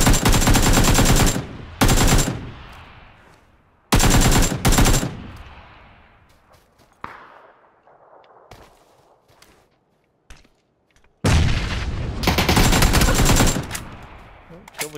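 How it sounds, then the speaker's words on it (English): Video game gunfire from someone shooting: loud bursts of rapid automatic fire in several blasts separated by echoing decay and scattered single shots, with a long final burst. "Some guy shooting behind me."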